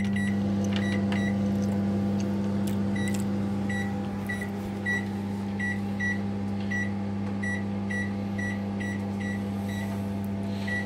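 A microwave oven hums steadily as it heats a ready-made pizza, a low, constant drone broken by a run of regular short beeps during the second half.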